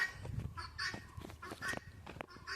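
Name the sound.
hen calling out for the rooster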